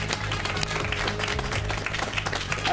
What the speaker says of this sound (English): Hey, applaud for them.